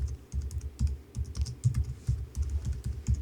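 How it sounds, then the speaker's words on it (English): Keystrokes on a computer keyboard while entering text in a design program: rapid, steady clacking with a thumpy low body, close and continuous, each key press distinct in a busy rhythm. "I'm going to type in"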